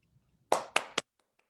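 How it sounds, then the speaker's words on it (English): A lone person claps three times in quick succession at an opening ceremony, close and crisp, with short silence before and after. "I know it's tough to hear an audience of one applauding"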